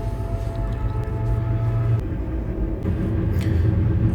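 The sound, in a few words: long train passing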